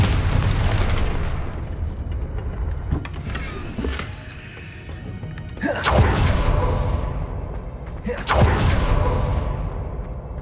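In the Hogwarts Legacy video game, the Confringo blasting spell goes off in a few loud, booming explosions, each with a sharp whooshing burst and a rumbling tail, spaced a couple of seconds apart.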